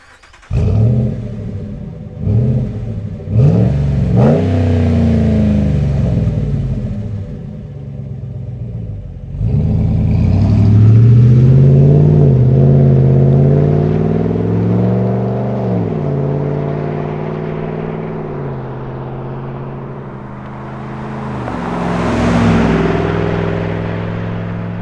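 RAM 1500 truck fitted with an MBRP replacement muffler, 2009–2018 model, rumbling nearby as it blips the throttle, then pulls away and accelerates steadily with a deep exhaust drone that fades slightly.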